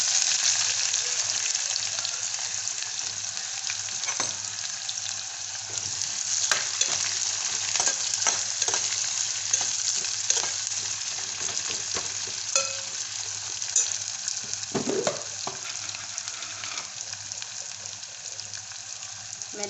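Onion frying in hot oil with cloves, black pepper, green cardamom and bay leaves for Indian dal, a steady close sizzle running throughout, with occasional stirring scrapes and clinks over it.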